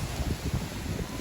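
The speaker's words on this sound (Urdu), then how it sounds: "یہ طوفان آ گیا جناب اتنا تیز مٹی کا طوفان" A strong dust storm wind roars in a steady, dense, close rush that fills the whole moment with no pause, and no voices are heard.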